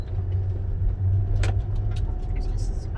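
A van rolls through a residential neighborhood with a steady low engine rumble and road noise, a brief rattle partway through, and people talking over it inside the cabin.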